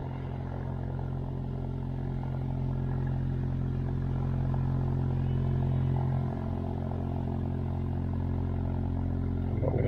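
A canal boat's engine chugs steadily behind, a low, continuous rumbling drone with a humming tone, fairly close and unchanging for the whole stretch, with no talk.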